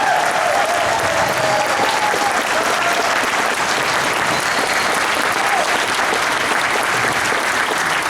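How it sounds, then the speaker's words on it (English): A large convention crowd at a furry convention gives sustained, dense applause for staff and volunteers, loud and even throughout with no break. "this better be the biggest applause I hear in a room"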